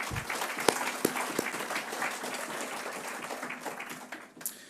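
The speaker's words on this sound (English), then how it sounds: "Let's give them a round of applause real quick." An audience at an athletics hall of fame induction ceremony applauds in a busy, continuous round, with a few sharper close claps standing out before it tapers.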